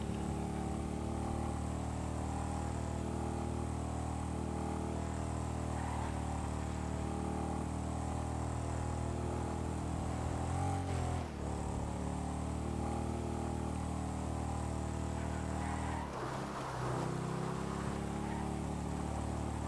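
Helicopter flying in GTA 5, a constant loud droning rotor and engine tone that runs for the whole stretch, with brief dips and shifts in pitch as the aircraft maneuvers, no talk over it.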